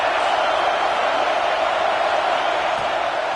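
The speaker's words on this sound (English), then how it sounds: "Decibels rising as the crowd gets behind this defense on third down." A football stadium crowd roars steadily as the home fans rally behind the defense on third down in a Boise State versus Washington game, a dense, loud, unbroken wall of noise.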